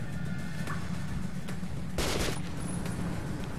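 A shotgun fires in the video game Metro, one sharp, loud blast cutting through a busy, noisy background of constant game sound.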